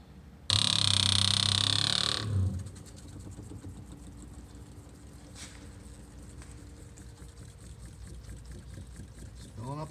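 A 1967 Jaguar E-Type's fuel system primes fuel up to the carburettors, giving a loud, steady electric-pump whir for about two seconds before it drops to a low, continuous hum with faint ticking.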